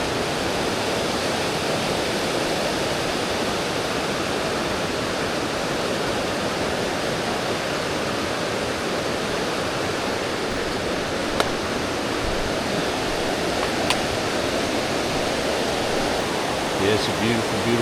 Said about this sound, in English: Beautiful, beautiful river.